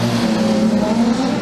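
A failing production sedan race car engine running on about three cylinders, a loud, rough, continuous drone close by with a ragged, uneven tone.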